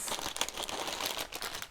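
Plastic parts bags from a MODBRIX V2 Peenemünde launch-pad brick set crinkle and rustle steadily as they are handled and counted close by, a dense crackling texture with no voices.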